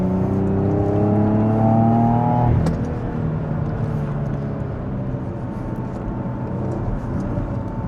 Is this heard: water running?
no